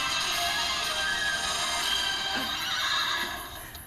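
A horse in a Christian rock music video whinnies loudly in a long, shrill neigh lasting several seconds, with faint hoof clatter underneath and no talk.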